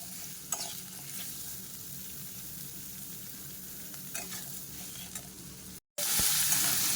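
Soybean and egg fried rice with salted vegetables fries in a pan, giving a steady, even sizzle with a few faint stirring scrapes and a brief cut near the end.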